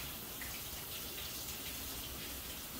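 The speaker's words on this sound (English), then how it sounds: "I'm going to rinse off my hands." Water runs steadily from a tap as hands are rinsed under it, a continuous even hiss of moderate loudness with no talking.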